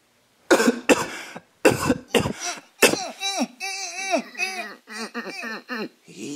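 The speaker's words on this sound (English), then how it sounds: "He just coughed" A few sharp coughs in quick bursts, followed by a child's whimpering, crying voice in short rising and falling wails.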